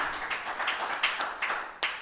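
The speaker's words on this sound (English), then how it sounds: "Why are we clapping?" A small audience claps briefly in a hall, a short run of near, uneven claps with no talking.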